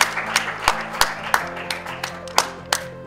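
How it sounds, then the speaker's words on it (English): An audience at a young leaders' forum claps for a professor, with sharp individual claps standing out over a smaller bed of applause, close and moderately loud. "Can we give Professor another round of applause?"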